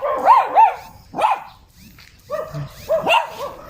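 Several dogs barking and yipping nearby in short, uneven bursts, with a pause in the middle before more barks; white dogs from a neighbouring pack.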